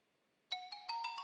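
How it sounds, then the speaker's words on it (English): A phone ringtone starts abruptly partway through, a bright electronic tone repeating in quick pulses, clear and close after a near-silent lead-in. "I hear a phone call."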